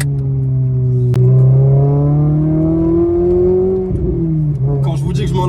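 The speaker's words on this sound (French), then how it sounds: "surtout à 4000 comme ça, cette sonorité qu'a le F4R, il fallait le libérer un peu" Renault Clio RS with its F4R engine and a Cobra exhaust, revving loud and close: a sustained droning tone climbs steadily in pitch, then dips and wavers before settling, under a voice speaking.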